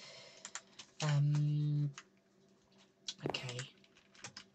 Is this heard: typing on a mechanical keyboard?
yes